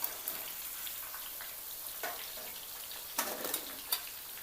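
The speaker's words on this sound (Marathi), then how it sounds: "त्याच तेलामध्ये कांदा फ्राय करून घ्यायचा।" Onion frying in leftover oil, once used for frying capsicum, carrot and potato, gives a faint, low crackling sizzle with a few sharper pops and splutters.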